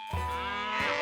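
A cartoon cow lets out a single drawn-out bleating moo, close and clear, lasting about a second with no talking.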